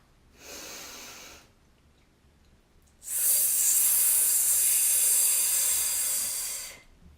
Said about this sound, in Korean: 2초간 강하게 들이마시고 4초간 내뱉겠습니다